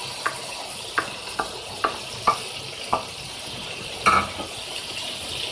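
Fried onions tipped into a pan of chopped tomatoes and spices while cooking chicken bhindi masala, with a steady sizzle and a handful of sharp spoon-and-pan clacks spaced through it.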